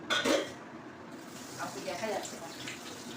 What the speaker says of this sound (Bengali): বাসনগুলো মেজে ফেলছি